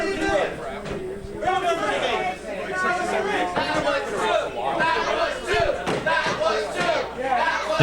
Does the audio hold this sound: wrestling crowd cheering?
yes